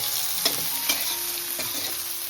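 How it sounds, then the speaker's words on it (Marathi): Garlic frying in oil along with onion, a steady broadband sizzle filling the pan, with a few soft stirring scrapes breaking through; close and continuous, no voices. "आणि लसूण तेलावर फ्राय करून घ्यायचं"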